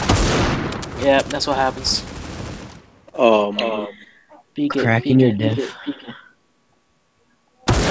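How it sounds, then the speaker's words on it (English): Gunfire in the mobile shooter Critical Ops crackles in short bursts between and under players' chatter, with brief sharp shots and a final burst after a quiet pause. "Even with all that gunfire, you should be able to hear those."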